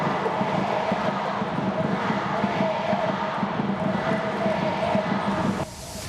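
At Gocheok Dome, a large baseball crowd roars and cheers in one sustained wash of voices that stays loud and steady, then drops off sharply right at the end.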